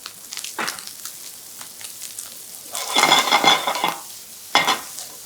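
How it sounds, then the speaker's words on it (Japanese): Stir-frying in a pan, a soft continuous sizzle broken by louder scraping and tossing bursts around the middle and again near the end, no talking. "ここはしっかりと炒めてください"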